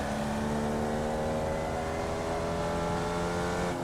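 Race car engine in the iRacing sim, a loud, continuous close drone holding steady revs with slight pitch shifts, alone without talk.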